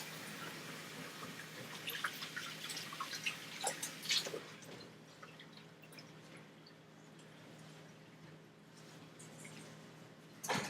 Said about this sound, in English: I should wash my hands